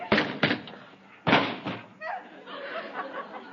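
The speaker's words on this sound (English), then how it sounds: "He ran into the door." A staged thud of a man running into a door in an old-time radio comedy, Life of Riley: a couple of sharp slams and thumps near the start, then lighter knocks and a whiny voice under a studio-audience laugh.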